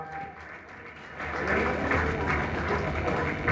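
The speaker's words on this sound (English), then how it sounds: "Round of applause for her." An audience at a medical symposium breaks into applause that swells after a quieter start, a steady wash of many hands clapping with murmured voices in the room.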